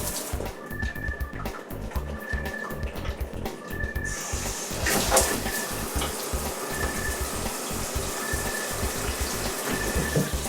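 Water runs steadily from a tap while a garbage can is being cleaned, a continuous rushing hiss that starts partway through and keeps going over background noise.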